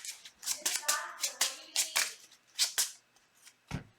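Cards being shuffled back into a deck during a Marvel Champions–style card game as Wolverine, giving a series of short crisp riffling and sliding snaps at close range with no talking.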